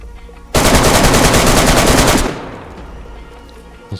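A video game gun set to semi-automatic fires a loud, rapid burst of shots for under two seconds, then the sound trails off into quieter background with a faint click at the end; no talk.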